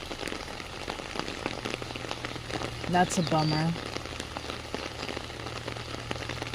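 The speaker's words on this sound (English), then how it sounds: "Look at all this rain." Heavy rain falls steadily on a garden in southern California, a dense close patter on leaves and surfaces, while a person speaks briefly partway through.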